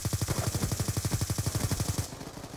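Rapid automatic fire from a Vector gun in a video game, a fast steady stream of close, loud shots for about two seconds before stopping abruptly.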